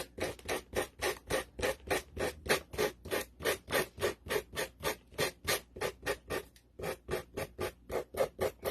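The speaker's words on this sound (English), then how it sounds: "I'm just sanding away the edges." Steady rhythmic rasping of sandpaper rubbed back and forth along the paper edges of a decoupaged wall piece, fast even strokes close up with no talking.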